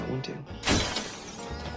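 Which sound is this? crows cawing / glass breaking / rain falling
glass breaking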